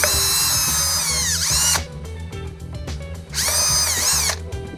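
A power drill enlarging a hole in a spray paint stencil cap whines loudly through two long bursts, its pitch dipping under load, with a short lower-level pause between them. No voices.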